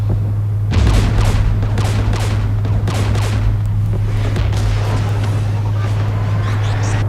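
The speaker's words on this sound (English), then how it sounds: "We're taking fire." Dense gunfire volleys burst out and hammer away loudly in a Mass Effect 3 firefight on Ranoch, backed by a steady low engine drone, with bursts tapering into scattered shots.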